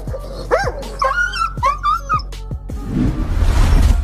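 A dog cries and whimpers in a run of high, wavering yelps and whines, close and loud, with short barking bursts and a noisy rustle toward the end.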